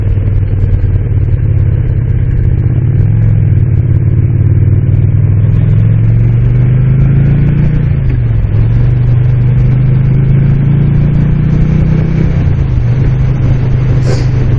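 A 2007 Moto Guzzi Breva motorcycle rides along the Desert Lake Road, its engine giving a steady, close mid-pitched drone with gentle rises and dips in revs and a constant rush of wind, and no talking.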